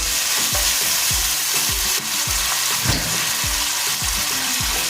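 Chicken with garlic sizzles loudly in a pan as soy sauce goes in, a steady frying hiss broken by regular scraping stirs roughly every half second, with no talking.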